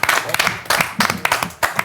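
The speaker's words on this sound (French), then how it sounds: "on applaudit" Studio audience applause on a French sports programme, a short burst of uneven clapping at moderate volume with no one talking over it.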